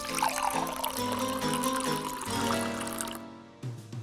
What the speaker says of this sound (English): Stir and pour in the cup.